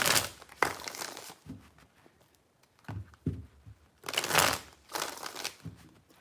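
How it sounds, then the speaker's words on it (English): Tarot cards are shuffled by hand in several crisp, papery riffling bursts separated by quieter pauses, close and moderately loud, with no speech. "3 shuffles."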